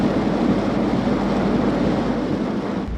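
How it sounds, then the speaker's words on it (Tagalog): Large waves pound the shore at Barangay Kauwakan, Ilocos Norte, under high seas from the West Philippine Sea, a steady, loud roar of surf and wind filling the whole stretch without talk. "Malakas na ang hampas ng mga naglalakihang alon sa baybayin ng Barangay Kauwakan."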